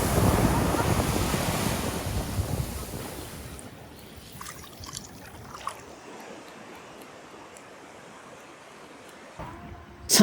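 Ocean waves wash up on a beach with a loud, broad rush that swells early and then recedes into a quieter hiss, mixed with wind buffeting the microphone and a few scattered knocks near the end.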